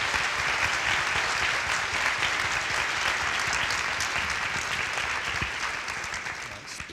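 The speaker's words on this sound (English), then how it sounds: "Let's give him a huge round of applause for his time." Sustained, loud audience applause filling a panel discussion hall, dense continuous clapping from a large crowd that holds steady before tapering slightly at the end.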